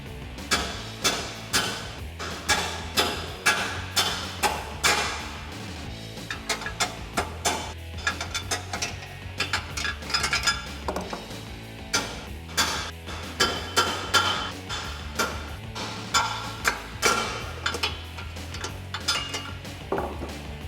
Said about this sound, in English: We need to reuse these triple bolt plates, so we're going to smack those out with a hammer.